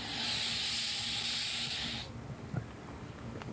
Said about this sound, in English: he used a can of bug spray to make his point